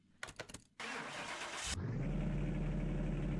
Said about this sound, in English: let's start her up